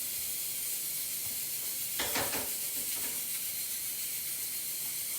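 Beetroot cooking in hot water gives a steady hiss and sizzle throughout, with a brief burst of bubbling or stirring in the middle.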